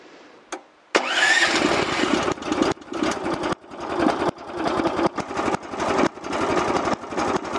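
Small engine of a Mygale 500 micro excavator cranks, catches and runs, warming up with a rough, uneven idle that surges and stutters close by, no talk.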